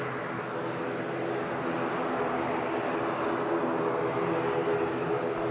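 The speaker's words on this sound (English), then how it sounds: "after this landing and takeoff of Binter" A Binter airliner landing in windy conditions at Madeira Island Airport, a continuous broad engine roar with wind noise holding steady throughout, heard from a distance with no talk.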